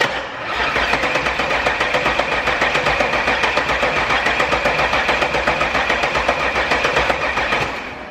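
Audi 3-litre V6 car engine cranking and catching, then idling with a steady, rapid pulsing rumble that holds close and loud before fading slightly at the end.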